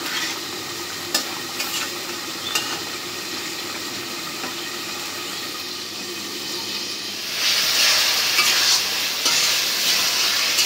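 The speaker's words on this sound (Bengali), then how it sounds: "সবজিটা কষানো হয়ে গেছে" Vegetables being stir-fried in a pan for a home-style curry with crayfish and katla fish: a steady close sizzle with occasional stirring scrapes, swelling louder and hissier toward the end.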